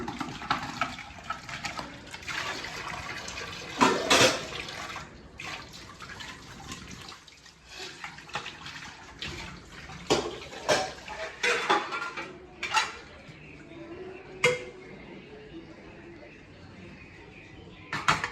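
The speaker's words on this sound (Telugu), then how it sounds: "శుభ్రంగా రుద్దకపోతే సోప్ అనుకో ఇక తర్వాత మళ్ళీ నువ్వే తినేది ఆ ప్లేట్లలో గిన్నెల్లో" Plates and pots being scrubbed with soap and washed under running water, with clinks of dishes and cutlery, splashes and a steady flow of water, close and uneven.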